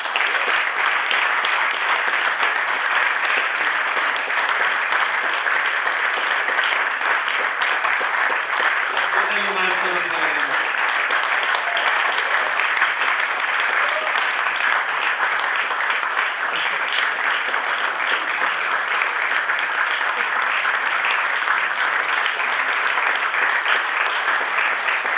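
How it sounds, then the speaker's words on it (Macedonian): Audience applause fills a guitar festival winners' concert, a dense, steady clapping that holds at even loudness for the full length, with a brief voice heard faintly underneath. "Молам уште еден голем аплауз за нашиот донатор."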